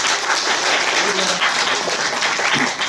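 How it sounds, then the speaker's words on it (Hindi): Steady applause fills the whole stretch, dense and fairly loud, with a few voices mixed into the clapping. "ताली ताली ताली"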